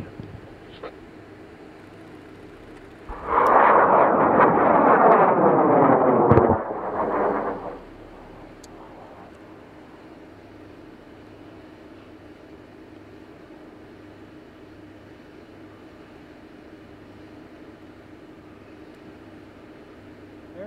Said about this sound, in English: they are launching in five, four, three, two, one, ignition.